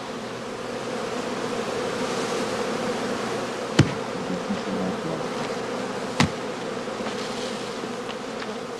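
Honeybees buzz in a constant, even drone around a heather skep at an open-air heathland apiary, with two sharp knocks standing out briefly over the humming swarm.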